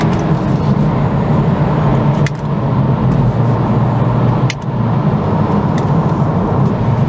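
A 2024 Acura Integra A-Spec with a CVT accelerates in sport mode with paddle-shift upshifts, a loud, steady engine and road roar heard from inside, with two brief dips where the upshifts break the drone.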